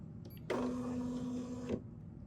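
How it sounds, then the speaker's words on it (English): A BERNINA embroidery machine sets up to stitch out a quilting design, with a brief click followed by a steady motorized whir and tone that holds for over a second, then stops abruptly in a quiet room. "now we're going to stitch this out"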